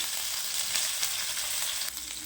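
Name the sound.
ginger and green chilli sizzling in hot oil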